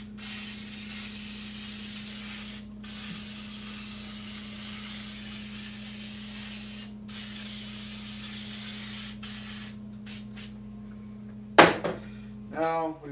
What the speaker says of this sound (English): we're gonna spray the bottom of the box